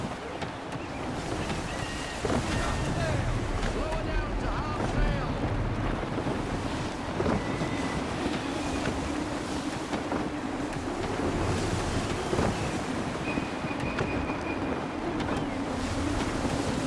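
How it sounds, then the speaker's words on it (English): Gusty wind and rolling sea waves around a sailing ship in the video game Assassin's Creed III, a steady broadband rush with surf swells and occasional creaks, continuous throughout with no talk. "Gusty winds can be difficult to manage."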